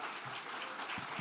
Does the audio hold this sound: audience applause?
yes